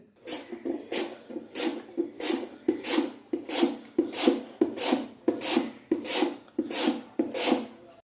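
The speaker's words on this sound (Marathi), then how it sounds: "मी इथे मध्यम होल असलेल्या जाईनं किसतोय" Peeled large potatoes being grated by hand on a medium-hole grater in a home kitchen, a steady run of about a dozen rhythmic rasping strokes, close and fairly loud, with no talking.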